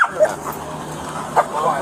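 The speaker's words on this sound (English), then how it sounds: "Sorry, the dog mauled him." A dog gives a few short yips and whimpers close by, broken bursts over a low background murmur.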